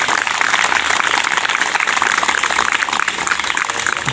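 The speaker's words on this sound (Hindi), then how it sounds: "और एक बार फिर तालियां बजाइए" A crowd at a community religious gathering clapping hands together, a loud, continuous, evenly sustained burst of applause with no speech over it.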